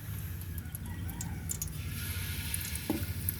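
Malunggay fritters, okoy, frying in hot oil, a steady low sizzle and crackle held throughout at moderate level, with no talk over it.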